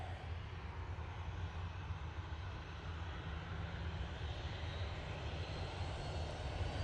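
A Ryanair Boeing 737-800 at Manchester Airport makes a steady, fairly distant jet engine roar with broadband rumble. The roar holds at an even level throughout and no one speaks.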